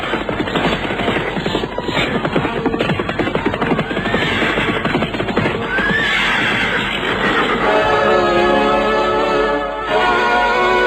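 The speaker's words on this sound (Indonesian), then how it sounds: "datang serombongan orang-orang berkuda" Horses neigh and whinny loudly as a band of mounted riders arrives, with hooves and a constant dense rumble underneath and shrill, drawn-out whinnies toward the end.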